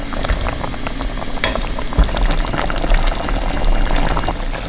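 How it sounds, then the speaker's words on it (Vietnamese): Tofu simmering in tomato sauce in a pan, a steady loud bubbling and sizzling boil that runs throughout, with a few louder pops along the way. "Và mình cho luôn phần đậu hũ vào rim cùng sốt luôn nha"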